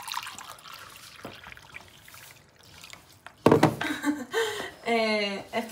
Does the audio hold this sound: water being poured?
yes